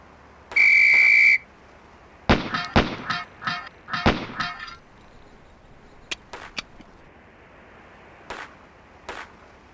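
In the shooting-range drill of the PC game Police Quest: SWAT, a sharp sustained whistle blast starts things off, followed by a rapid series of gunshots and metallic clangs from falling pepper-popper targets, then a few scattered later shots.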